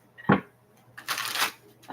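A deck of cards being shuffled close by during a card reading: one sharp tap, then a brief riffling flutter of cards lasting about half a second.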